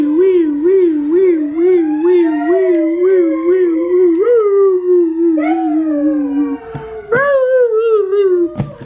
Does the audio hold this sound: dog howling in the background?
yes